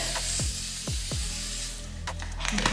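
Several short hissing sprays from a bottle of braid sheen spray, close up, a few quick spritzes spread over a couple of seconds.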